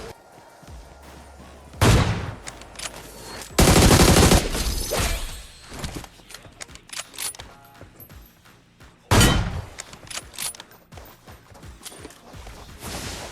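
Bursts of gunfire from a mobile shooter game played on an iPad Pro M4 at 120fps, with loud automatic volleys, repeated single shots and clangs rattling close and dense throughout.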